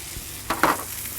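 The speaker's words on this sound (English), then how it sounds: "Again, with the lower temp, get a nice sear on here." Bone-in ribeye steaks searing on a soapstone in a Kamado Joe Big Joe grill, a short close sizzle with a soft clatter and a brief burst of hiss.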